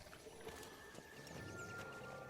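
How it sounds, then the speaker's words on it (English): Horse hooves trot in The Witcher 3 video game, a quiet, rhythmic clip-clop of repeated hoofbeats under faint game ambience, with no talk. "Whoa there, Roach"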